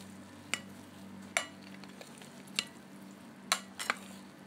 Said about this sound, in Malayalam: ഇനി ഇതുപോലൊരു തവി ഉപയോഗിച്ച് നമുക്ക് പതുക്കൊന്ന് മിക്സ് ചെയ്ത് കൊടുക്കാം.